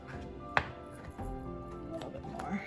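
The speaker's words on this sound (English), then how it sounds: "We're gonna slice up our potatoes." A knife slices through potatoes on a cutting board, with a few distinct chopping knocks, one sharp and close, spaced irregularly under a quiet kitchen background.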